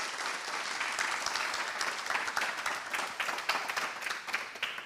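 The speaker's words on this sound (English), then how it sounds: "Please, a big round of applause for him." A crowd at an awards ceremony claps for a speaker coming up, a sustained round of applause with dense overlapping claps that thins slightly toward the end.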